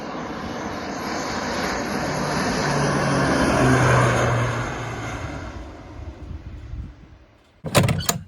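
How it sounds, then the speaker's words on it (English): A crop-dusting airplane flies low over a cornfield, its engine drone swelling as it nears, peaking, then fading away, followed by a brief clattering knock near the end. "watching airplanes fly around"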